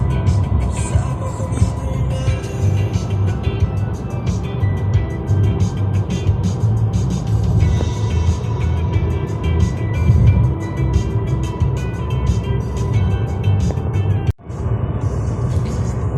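An electric car rolls downhill on a road while regenerating on a drive back toward Kyiv, heard from inside as a continuous, fairly loud rumble of road and tire noise with a brief dip near the end.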